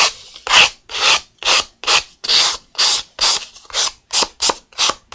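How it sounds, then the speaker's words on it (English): A sanding sponge is rubbed by hand in steady back-and-forth strokes during an art journaling session, about two raspy, close-up scrapes per second. Nothing else is heard over the sanding. "So I'm just using a sanding sponge."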